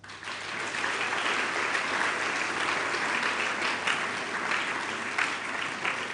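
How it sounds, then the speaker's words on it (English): Secondary school students applauding, a full room of steady clapping that swells in after a quiet start and holds at an even, lively level to the end. "Give her a clap for that."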